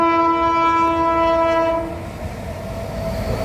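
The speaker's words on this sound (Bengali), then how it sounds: "পাহাড়ের নিচ দিয়ে বন্ধুরা ট্রেনটা যাচ্ছে।" A train passing below a tall hill near Goalpara sounds a loud, sustained horn for about two seconds, then the steady rumble of the moving train carries on alone.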